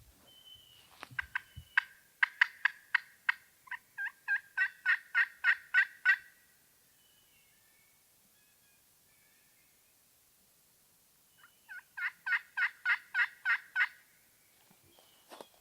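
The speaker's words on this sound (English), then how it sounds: "So we had those birds gobbling really good." Wild turkeys gobbling in spring woods on public land in Maryland, two loud rapid bursts of rattling gobbles several seconds apart, fairly near, with quiet pauses and no talking.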